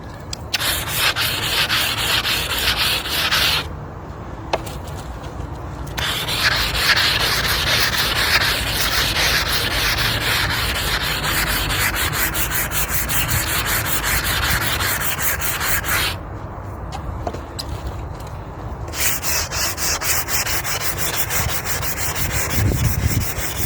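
Hand sanding a stone headstone with 3000-grit abrasive: a steady, close, continuous rubbing scrape with two short pauses, loud and without talk.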